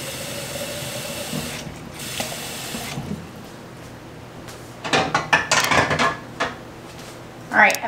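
Glass canning jars clink and knock as they are set down into a Presto electric pressure canner, giving a few close, sharp clatters after a quieter stretch of handling.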